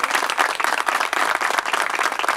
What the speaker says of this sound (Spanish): repitamos el aplauso para él